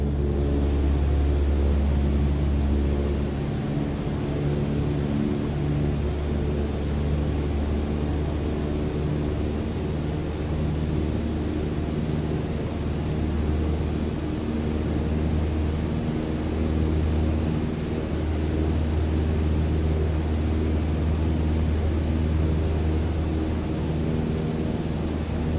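A Cessna 172 in flight in Microsoft Flight Simulator 2020, its engine a steady, loud droning hum with a deep rumble that holds without break, no voices over it.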